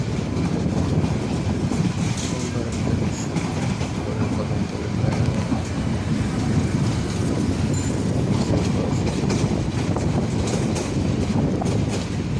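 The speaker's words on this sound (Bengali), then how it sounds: "ট্রেন আসলে এক লাইন থেকে আর এক লাইন পার হওয়ার সময়" A train rumbles steadily over the rails near Kadamtali station in Bangladesh while switching from one line to another, with continuous loud rolling and rattling clatter and wind noise throughout, and a voice speaks briefly.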